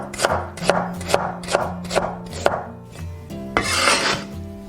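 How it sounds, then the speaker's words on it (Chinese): Knife slicing ginger on a cutting board for homemade fish tofu, a steady series of about ten crisp chops, close and clear with no talking. "生姜切片"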